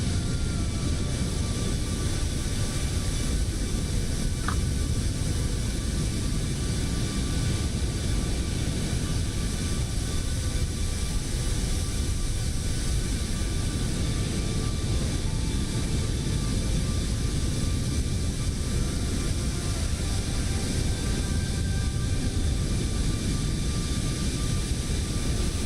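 Steady, unbroken roar of CFM LEAP-1B jet engines on an airliner climbing in Microsoft Flight Simulator, a broad constant hiss and rumble with no pauses.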